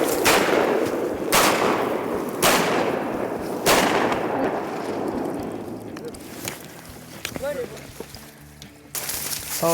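Four loud shotgun blasts ring out at a steady pace across open water during a duck hunt, each with a booming tail. Voices talk over the quieter stretch that follows.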